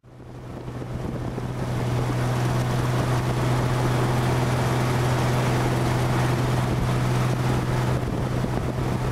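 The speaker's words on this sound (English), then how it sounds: "Driving these boats." A motorboat runs on a lake on a foggy morning, giving a loud, steady engine drone with a low hum and constant wind-like rushing throughout, without pause.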